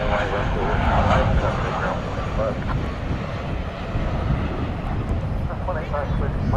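American Airlines jet on approach to runway 18 left at DFW airport at night, a steady loud engine roar and rumble throughout, with someone talking over it.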